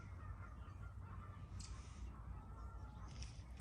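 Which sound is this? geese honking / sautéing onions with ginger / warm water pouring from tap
geese honking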